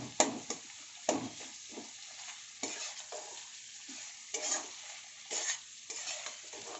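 Boiled cauliflower stalks in an oil-based tel chachari stirred around a pan with a spatula, giving repeated scraping strokes over a soft, steady sizzle, close up and with no talking.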